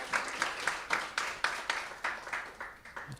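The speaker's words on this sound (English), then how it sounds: "Round of applause." An audience claps for teams at an annual school quiz, a faint, fairly regular beat of applause with clear individual claps repeating through the short stretch.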